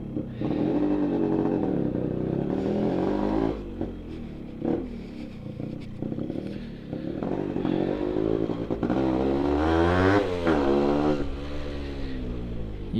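A Yamaha RX 135 motorcycle engine up close while riding, its two-stroke note rising and falling through repeated revs and gear changes, loud and continuous with a brief dip midway.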